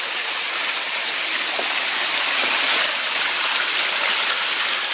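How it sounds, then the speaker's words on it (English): Creek water spilling down a concrete railway track culvert on a forest line, giving a steady broadband rushing and splashing wash that holds constant and fairly close throughout, with no voices. "Here's the creek falling down the side,"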